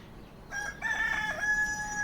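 A rooster crows nearby, a single long cock-a-doodle-doo rising then holding steady, with faint background noise.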